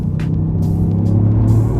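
Inside a 2022 Toyota GR Yaris Rallye, the turbocharged engine pulls hard under acceleration with a deep, loud, steady rumbling drone and a rising tone, with brief whooshing turbo hisses on top.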